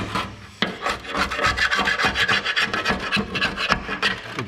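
An SS1 Super Scraper scrapes an old cork gasket off a part on an LS-swapped Trans Am. The rasping strokes are loud and close and repeat steadily, with no talk over them.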